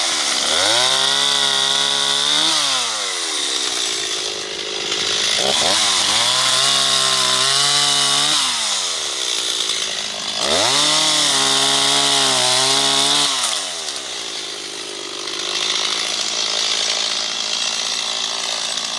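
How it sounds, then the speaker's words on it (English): A chainsaw close by runs through hay bales in three long cutting passes, its engine note bogging down and rising in each cut, with brief lower idling between passes and no talking. "I don't recommend running a chainsaw on hay dudes"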